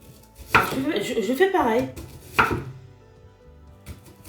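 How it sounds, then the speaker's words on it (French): A knife chopping onions on a cutting board in a home kitchen, a few sharp close knocks spaced apart under someone talking in French. "pour les oignons aussi, pareil, je coupe comme ça aussi"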